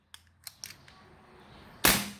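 A few soft mechanical clicks, then one sharp, loud pop of an Armscor CO2 air pistol shot close by, followed by a brief hiss.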